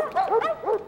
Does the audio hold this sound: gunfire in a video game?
no